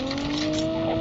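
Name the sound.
vehicle driving around in Call of Duty Mobile video game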